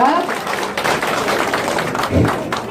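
A crowd claps at the opening of a Gimcheon mayoral preliminary candidate's campaign office, sustained loud applause spreading through the room while voices carry on underneath.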